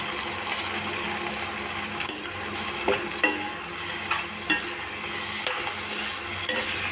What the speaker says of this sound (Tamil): தக்காளி நல்லா மசிய வதக்கி எடுத்துக்கலாம்.